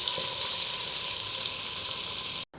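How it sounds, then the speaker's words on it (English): Brisket pieces browning in a hot pan for Texas-style chili give a steady, close, bright sizzle and crackle that holds without a break before cutting off abruptly near the end. "So I'll get all these browned up"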